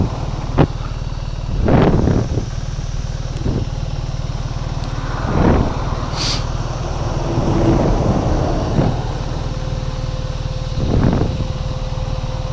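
A 2025 BMW GSA 1300 adventure motorcycle ridden off-road, giving a continuous engine drone with a few brief louder surges and rattles along the way, with no talk.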